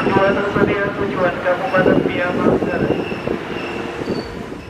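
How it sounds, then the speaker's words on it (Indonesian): An Argo Parahyangan express train passes straight through a station without stopping, its rumble and wheel noise loud and steady throughout, with a voice talking over it. "Kereta api yang akan melintas sekarang ini Argo Parahyangan dan ini Argo Parahyangan tidak berhenti alias melintas langsung"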